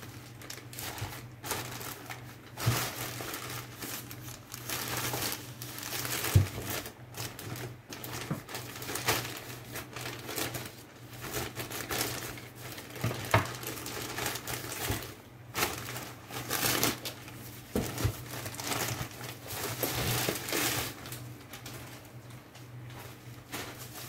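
Packaging for a BLACK+DECKER Dust Buster NVB115JM portable vacuum crinkles and rustles as a parcel is unboxed, with steady close handling noise and scattered sharper crackles and taps throughout.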